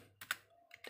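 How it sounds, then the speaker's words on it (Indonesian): A computer keyboard being typed on to enter a ping command during an office network simulation: a few quick, close key clicks in short bursts, with no talking. "Kita ketikkan ping"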